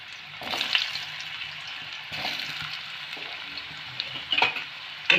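Diced potatoes fry in hot oil for a vegetarian jackfruit curry, giving a steady, close sizzle and crackle with a few short bursts of utensil clatter and stirring.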